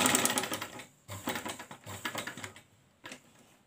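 A sewing machine stitches the round seam of a raglan-sleeve baby frock, running in short close bursts that start, pause briefly and start again, loud and alone with no talking.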